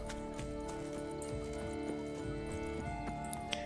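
Horse hooves clip-clop in The Witcher 3 video game, a quiet, steady patter of footfalls over a faint game background.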